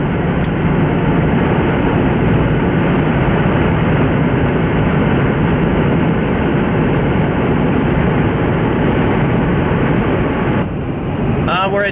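A roaring storm wind, loud and steady like the inside of an airplane cabin, blankets everything in a continuous rushing drone with no breaks, heard from inside a vehicle on a highway in Oklahoma.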